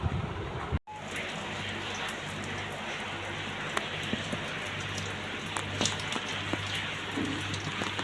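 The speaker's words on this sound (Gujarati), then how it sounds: "જો મિત્રો થઈ ગયો વરસાદ ચાલુ, થોડો થોડો તમે જોઈ શકતા હશો." Steady rain falls on surfaces nearby, a continuous hiss with scattered drop ticks, interrupted by a brief dropout near the start, with a faint low mechanical hum underneath.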